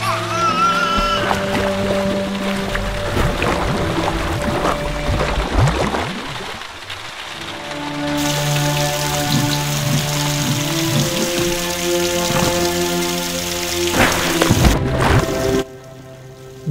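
Steady rain patters on a surface, a dense wash of drops that runs continuously, with brief shifts in texture and a sudden cut near the end.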